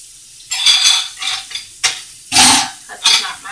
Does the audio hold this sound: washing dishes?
yes